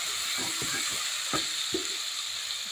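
Ingredients with a medium tomato sautéing in a pan for traditional mutton gravy, a steady broad sizzle throughout with a few soft stirring knocks and scrapes, close by, no talking.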